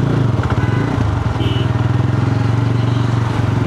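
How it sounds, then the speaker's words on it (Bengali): A GPX Demon 250 sports motorcycle idles with its cooling fan running. A steady, close engine throb with a low pulsing rhythm dominates, and the fan's whir blends into it. "যার কারণে ফ্যান চলার একটা সাউন্ড আমি পাচ্ছি এখন"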